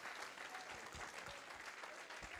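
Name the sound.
church congregation applause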